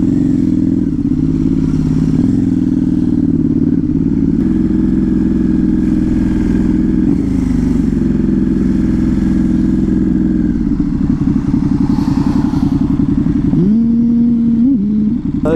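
A motorcycle engine runs loud and close throughout, its steady mid-pitched drone shifting as it revs and eases off while riding, with a rising rev near the end.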